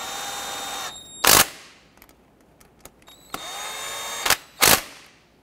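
A cordless power tool drives bolts on a 2008-2012 Honda Accord 2.4L power steering pump, whirring in short bursts with loud impact clatter between pauses and light clicks.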